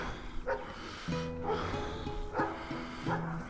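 Dogs fighting somewhere off at a distance, giving a run of overlapping barks, yips and snarls in short bursts, moderately loud outdoors, with no voices over them.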